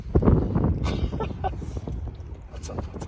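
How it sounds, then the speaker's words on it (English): Gusty wind during a snowstorm at a campsite in Great Sand Dunes National Park, buffeting the microphone with loud, uneven low rumbles and roaring bursts. "The wind's picked up and it's actually snowing right now."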